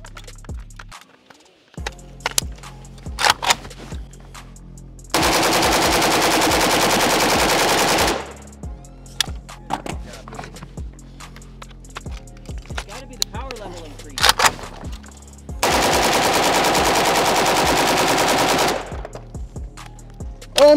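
A Pioneer Arms 556 Sporter AK rifle fires two long, rapid bursts, each a few seconds of loud continuous gunfire, separated by quieter handling noises and talk.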